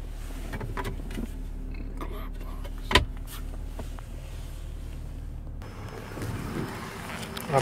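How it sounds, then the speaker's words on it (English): Power windows whir inside a 2012 Ford Fusion, a low motor hum with a brief clunk as the glass stops, set against quiet cabin background and faint talk. "Our power windows and locks."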